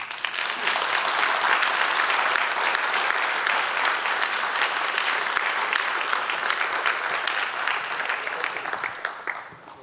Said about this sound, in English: Let's once again thank Linda for this wonderful talk